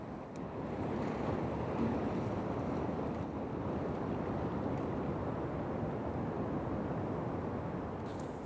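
Sea water sweeping around rocks into a gully on the Anglesey coast, a steady broad washing roar of surf with some wind buffeting, continuous and fairly soft.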